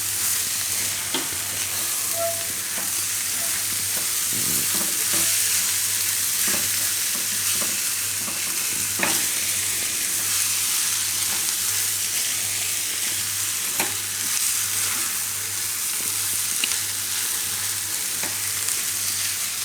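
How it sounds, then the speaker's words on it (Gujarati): Paneer is stirred into a sizzling spice mixture in a pan over a low flame for dahi paneer bhurji, with steady frying hiss and repeated scraping strokes of the spoon at close range. "પનીર મિક્સ કરી લેવું આમાં."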